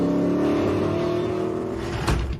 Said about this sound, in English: Man, 600 horsepower roaring down the road reminds me why I love hot rods.